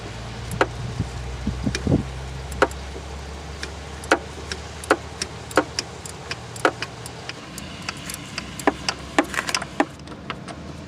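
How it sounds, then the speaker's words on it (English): A 15mm ratcheting wrench works a belt tensioner nut on a Jeep ZJ, giving a run of sharp, close ratchet clicks in uneven bursts over a low background hum. "I'm using a 15mm ratcheting wrench for removal."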